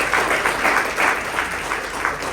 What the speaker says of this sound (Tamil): அவர்களுக்கு ஒரு பெரிய கைத்தட்டுகள்.